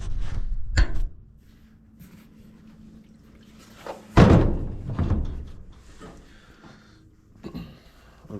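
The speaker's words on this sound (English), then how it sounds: "I'm going to set the gas tank in there and see how it looks." A gas tank is lowered into a small boat hull, giving a few hollow thunks and bumps, one heavier knock in the middle, and lighter scraping and shuffling around them in an otherwise quiet space.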